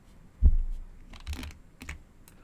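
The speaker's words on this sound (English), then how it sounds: "Now let's undo this by pressing Ctrl Z" Computer keyboard keys are pressed for a Ctrl Z undo in Excel, a few soft, muffled clicks spaced irregularly, close and faint, with no talking.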